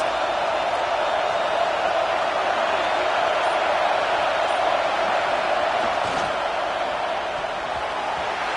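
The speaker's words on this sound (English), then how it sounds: "Listen to this crowd just shaking the girders of this place trying to help their defense." A packed football stadium crowd roars steadily and loudly, a dense sustained wall of cheering noise pushing to help the home defense, with no clear breaks throughout.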